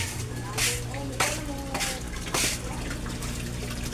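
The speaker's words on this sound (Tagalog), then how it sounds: "Submersible pump ko, ang lakas-lakas pero ang hina niya kumain ng kuryente" A submersible pump running in a fish pond, with continuous splashing and trickling water and a few louder gushes, close by, under a low steady hum.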